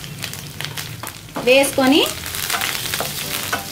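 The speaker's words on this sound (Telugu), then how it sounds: "లో ఫ్లేమ్లోనే పెట్టేసుకొని ఈ తాలింపుని మనం ఫ్రై చేసుకుందాము." Thinly sliced onions and curry leaves sizzle in a tempering on a low flame for tomato dal, a close, steady frying hiss that surges briefly as a voice speaks over it.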